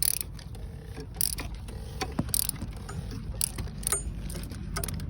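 A hand ratchet clicks in short irregular bursts while tightening the oil drain plug on a Ford Courier during an oil change, the ticks faint and close under low background rumble.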